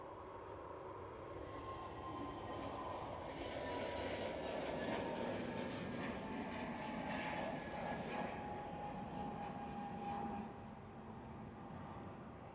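A Jet2 airliner lands at Glasgow airport, its engine roar a steady broad rumble with a whining tone that swells in the middle and eases toward the end, heard from a distance with no talk.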